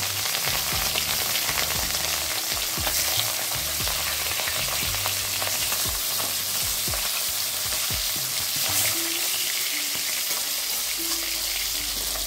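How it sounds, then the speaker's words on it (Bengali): Steady, dense sizzling of rohu fish pieces frying in hot oil, loud and close, with occasional low knocks and scrapes of a pan underneath. "এবার বাকি মাছটাও ভেজে নেব।"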